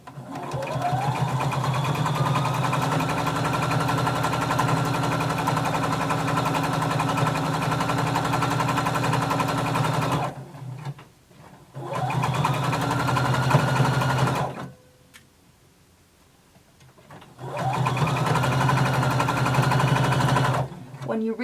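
A sewing machine stitches a 5/8-inch side seam on a Simplicity pattern garment, running in three long steady bursts of loud whirring with brief pauses between them.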